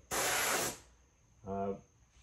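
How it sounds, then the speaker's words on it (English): A short, loud hissing burst of air from a paint spray gun spraying a 1956 Ford R/C car body comes first, then a brief tone-like sound, with a faint high whine lingering in a quiet room. "we're going to start spraying it"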